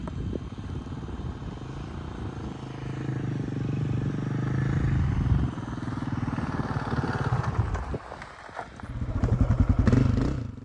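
A Honda 250F dirt bike works along a Pacific Northwest singletrack trail, its engine droning steadily and near, with throttle swells, a brief dip and clattering knocks and scrapes from the terrain.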